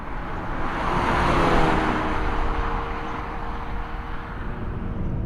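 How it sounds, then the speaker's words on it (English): Hyundai Elantra N with a dual-clutch automatic on track at Sonoma Raceway: a steady, loud engine drone with road and wind roar, holding a fairly even level for several seconds with no talk. "Welcome to Sonoma Raceway in the dual-clutch automatic Hyundai Elantra N."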